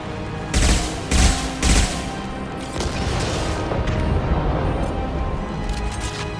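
Rapid bursts of gunfire during a firefight in Mass Effect 2, with several loud volleys early on followed by sustained, dense shooting and booming impacts that continue throughout.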